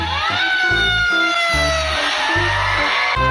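A toy fire truck blares a loud electronic siren close up, its wailing tone sweeping up and down over a pulsing, repeating beat.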